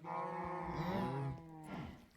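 A baby cow in Minecraft lets out a single drawn-out moo, close and clear, rising then fading over about two seconds with little else around it.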